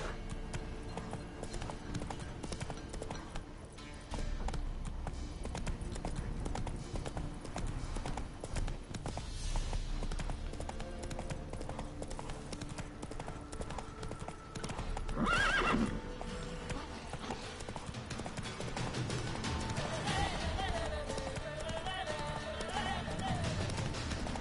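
Roach, a horse in a video game, clip-clops steadily throughout with a loud neigh or whinny midway, layered over game ambience and music; a voice talks intermittently.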